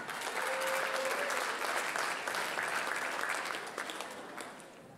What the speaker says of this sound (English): Another round of applause for all of them.